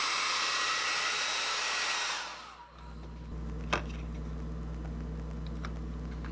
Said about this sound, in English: The hairdryer method works really well.